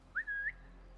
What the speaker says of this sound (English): I'm whistling at him.